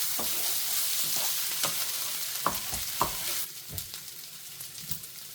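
Rice with saffron, paprika, black pepper, salt and bay leaf sautéing in a paella pan cooked outdoors on a boat, a steady sizzle broken by scraping stirring strokes and light clatters, without any speech.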